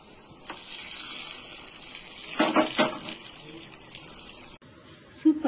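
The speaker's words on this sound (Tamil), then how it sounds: "கடுகு உளுத்த பருப்பு கருவேப்பிலை போட்டு நம்ம தாளிச்சுக்கலாம்." Mustard seeds, urad dal and curry leaves tempering in hot oil for a ginger thuvayal, giving a soft, steady sizzle with a brief louder crackling surge in the middle and a voice talking over it.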